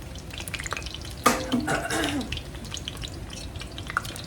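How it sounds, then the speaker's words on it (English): Tap water runs briefly and splashes as hands are wetted while shaping ground chicken patties in a kitchen. It is a short, close burst over a low background hiss. "let me wet my hands again"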